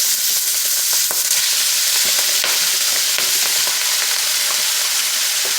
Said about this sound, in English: you want to add the cabbage in. Fry the cabbage.